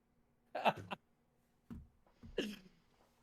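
A sneezing fit from a podcast host: three separate sharp bursts, close and fairly loud, spaced about a second apart, with quiet in between and no talk.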